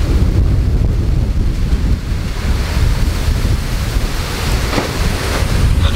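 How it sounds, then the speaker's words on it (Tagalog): Strong gusting wind from Typhoon Carina at a camper van basecamp roars loudly and continuously, buffeting the microphone with a rough, surf-like rumble. "Nak, malakas hangin dyan."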